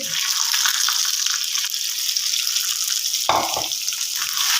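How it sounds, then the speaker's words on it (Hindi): Boiled potatoes drop into garlic ginger paste frying in a pan, setting off a steady loud sizzle with a brief thud and crackle partway through. "यहाँ पे जो आलू हमने बॉईल किए थे उनको ऐड करेंगे"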